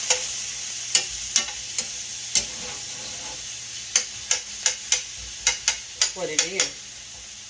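Pork loin chops frying in a pan, a faint steady sizzle broken by a dozen sharp clicks and knocks of a utensil against the pan, with brief quiet speech near the end.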